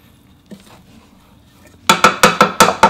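A utensil clinks and scrapes against a bowl while couscous salad gets stirred, a quick run of about six sharp, evenly spaced knocks after a brief quiet lead-in, close and fairly loud.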